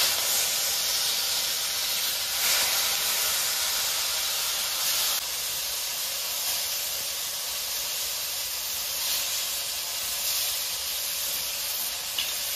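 Ash gourd (chal kumro) leaves dropped into hot tempering oil with a dried red chilli and mustard seeds sizzle loudly, a steady close-up hiss that hardly changes from start to finish.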